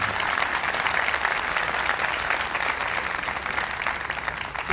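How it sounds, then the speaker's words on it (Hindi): A church congregation applauds after a priest's message, the clapping dense and steady throughout at close range. "आपकी तालियां।"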